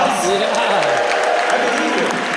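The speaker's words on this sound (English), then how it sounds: "Round of applause." A theatre audience at a Castro Theatre movie event applauds with dense, steady clapping and scattered cheers, mixed with crowd chatter and voices throughout.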